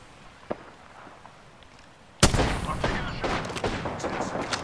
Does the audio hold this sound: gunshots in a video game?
yes